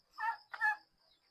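Two brooding hens sitting together on a nest give a pair of short, close clucking calls in quick succession, then fall quiet.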